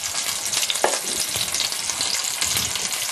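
A pork loin sears in a hot pan with a loud, continuous crackling sizzle and occasional stirring, close up and without any talking.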